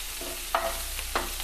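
Curry leaves and onion fry in oil for a pulao, giving a low continuous sizzle marked by two distinct stirring scrapes.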